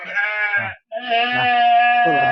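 Crossbred sheep lambs about two months old bleating on a livestock farm, two loud, close, wavering calls separated by a brief pause.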